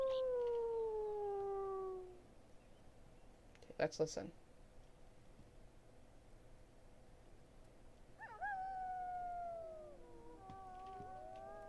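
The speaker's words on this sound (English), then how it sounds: "We have somebody with a high-pitched howl and somebody with a low howl." Two wolves howl in the WolfQuest game, one high-pitched and one low, in long sliding tones; one howl fades out early, then another rises closer after a burst of clicks, with someone speaking briefly over it.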